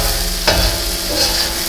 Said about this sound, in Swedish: Jag låter den steka ut lite till där bara så. Och så blandar vi runt den här nu då.